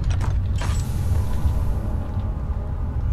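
A door creaks in the horror game Amnesia: The Dark Descent, a short wooden groan near the start that settles into a low, steady ambient hum, with no speech.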